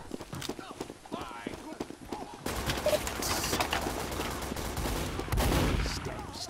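Gunfire in the Team Fortress 2 video game bursts out as rapid shots and a dense volley, loud and close, after quieter game sounds at the start.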